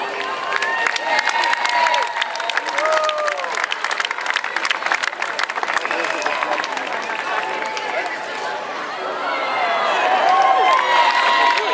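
At a Fourth of July 2013 parade in New Boston, New Hampshire, a crowd cheers as a cheerleader float passes, with excited shouts and voices over a busy outdoor din that swells near the end, while people nearby talk.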